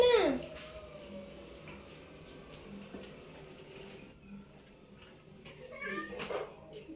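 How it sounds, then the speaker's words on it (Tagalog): An old cat gives a loud, drawn-out meow at the start, then a few softer meows later, with a person speaking quietly nearby in a home setting. "Matandang pusa na po kasi"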